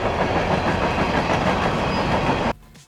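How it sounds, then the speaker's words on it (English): A train passes close by with a loud, continuous rumbling roar and rhythmic clatter of wheels on track, cutting off abruptly near the end. "Trains!"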